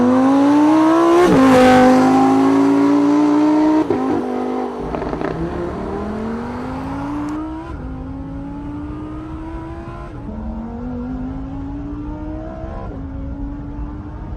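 A Lamborghini Huracan engine revs hard and accelerates through several gear changes, a loud, rising roar with each shift, close and alone.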